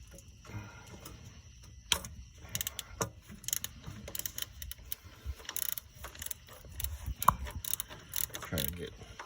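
A ratchet clicks as it removes a 13 mm battery lug from the starter of a 1995 Ford F150, quick bursts of close, sharp pawl ticks separated by brief pauses, with faint metallic clanks.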